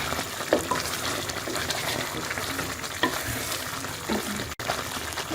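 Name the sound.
moong dal halwa cooking, stirred with spoon in pan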